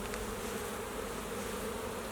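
Honey bees buzz in a dense, continuous drone as they are shaken off a hive frame, loud and close, a steady swarm hum without speech.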